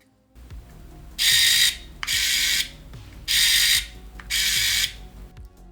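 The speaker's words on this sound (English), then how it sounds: "So this camera is not the most discreet. The autofocus is pretty loud." A Rollei 35AF film camera's autofocus mechanism whirs in four loud, even bursts of about half a second each, close up, with brief pauses between and quiet ticks as each cycle starts.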